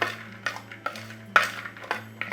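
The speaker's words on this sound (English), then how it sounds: "To this, we're going to add some breadcrumbs, cinnamon. Just mix this all together." Breadcrumbs and cinnamon being stirred in a bowl for a sweet maccheroni dessert, giving a series of light, irregular clinks and scrapes of a utensil against the dish, close and fairly quiet.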